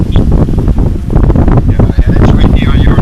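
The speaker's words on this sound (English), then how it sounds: "Oh, it's real windy on our side." Strong wind buffets the microphone near open water, giving a loud, rumbling, continuous roar with gusty swells, and faint voices are partly buried beneath it.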